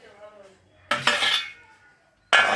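A metal lid is set onto a cooking pot of catla fish curry, producing two sharp, close metallic clanks about a second and a half apart, each ringing briefly, with a quiet low hum before them.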